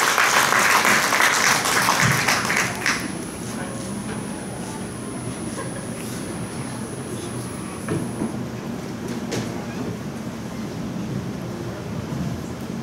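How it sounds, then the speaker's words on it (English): Applause from a hospital event audience, loud and dense for about three seconds, then dropping to a lower, steady wash of claps and room noise with a faint tone running through. "Let's give him a round of applause, please."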